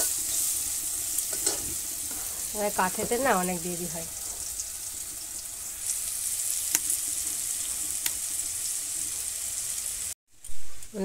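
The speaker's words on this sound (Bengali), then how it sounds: "এখন এটা আস্তে আস্তে কড়া করে ভেজে নেব" Bitter gourd fries slowly in a pan in a village kitchen, giving a steady, close sizzle throughout, and a voice speaks briefly partway through.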